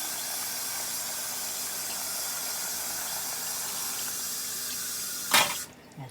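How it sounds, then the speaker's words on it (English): Cup of water poured into a cooking pot of potato and pea curry, a steady continuous splashing hiss that runs for several seconds, then a sharp clatter and quieter tail. "I'm going to add 1 cup of water."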